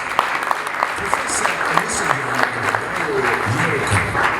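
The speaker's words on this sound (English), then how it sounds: "A round of applause" Applause from an awards ceremony audience, steady clapping for a few seconds with a voice briefly heard over it.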